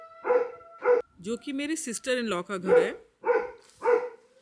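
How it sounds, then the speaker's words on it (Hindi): A dog at a rural farmhouse in a Chinese village barks at a stranger, giving five sharp, close barks spaced through the moment while someone talks between them. "यहाँ पे कुत्ता भौंक रहा है क्योंकि उसको पता नहीं मैं कौन हूँ"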